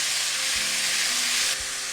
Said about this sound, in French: Je mélange maintenant.